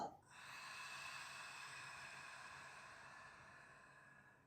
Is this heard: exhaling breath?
yes